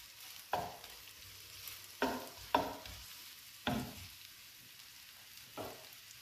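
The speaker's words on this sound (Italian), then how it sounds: "Metto in padella un bel giro d'olio, lo lascio scaldare e poi aggiungo la cipolla." Onion drops into hot olive oil in a pan for sweet-and-sour red cabbage, giving several separate bursts of sizzling crackle that rise sharply and fade over a quiet background.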